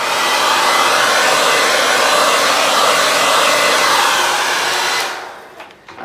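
A hair dryer blows steadily and loudly for several seconds over acrylic pour paint in a Dutch pour, then cuts off abruptly, leaving quiet handling noises.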